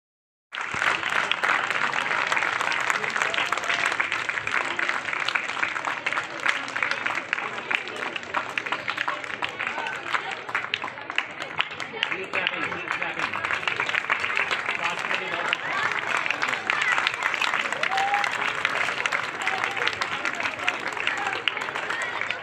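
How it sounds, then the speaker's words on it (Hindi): Sustained applause and clapping from an audience at a school inauguration of a Delhi Public School in Vrindavan near Thawe toll plaza, steady and dense throughout, with some voices mixed in. "तालियां बजाने से शरीर के कई रोग दूर हो जाते हैं"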